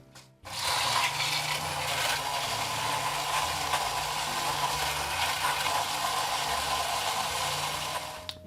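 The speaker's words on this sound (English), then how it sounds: "Now, I'm going to put this in the spindle blender here." A spindle drink blender gives a steady, loud motorized whir that runs continuously after a brief quiet start, mixing a honey cocktail without pause.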